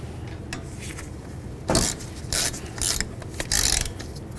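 A ratchet clicks in several quick bursts while caliper slider bolts are run down on the front brakes of a 2009-2020 Dodge Journey. The bursts are close and sharp, with short pauses between them and no talk.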